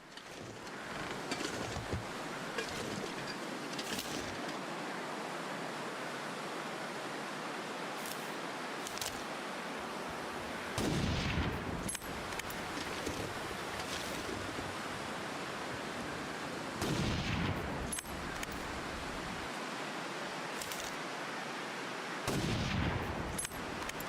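Rifle shots ring out in the survival video game The Long Dark, with three or four sharp, spaced cracks standing out over a constant windy wilderness ambience.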